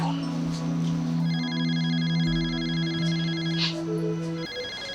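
A phone rings with a repeating electronic melody of sustained tones for several seconds, with faint vocal sounds in the background.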